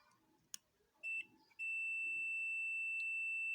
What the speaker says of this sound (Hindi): बज़र की आवाज़ सुन सकते हैं